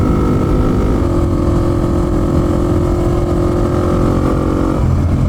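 A Honda XR250 dirt bike engine while riding, a loud steady drone at near-constant revs heard from the rider's position with wind rush, easing off briefly near the end.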